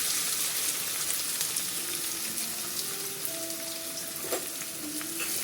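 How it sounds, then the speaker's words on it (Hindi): Chopped onions frying in hot oil with crackling garlic, a thick steady sizzle close by with faint scraping and brief squeaks of stirring partway through. "चॉप किया हुआ प्याज हम अब इसमें डाल देंगे"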